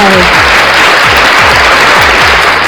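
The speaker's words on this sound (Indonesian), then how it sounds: "Mana tepuk tangannya tim Onyx?" Loud, dense applause from an esports match crowd, continuous and close throughout the short stretch.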